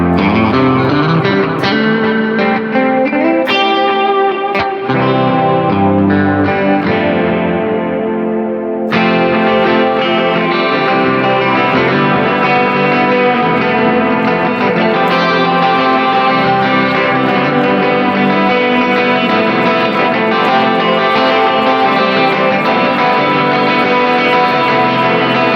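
Electric guitar played through a pedalboard with heavy reverb and some distortion, sustained chords and notes ringing out and blending into a wide wash, loud and continuous with no talking.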